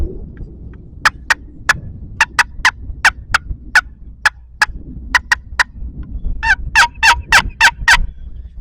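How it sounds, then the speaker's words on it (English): A turkey box call used for hunting, producing a sequence of sharp, raspy yelps and clucks, spaced unevenly at first, then a quicker, louder run of notes near the end, close and clear. "I'll demonstrate that on a box call."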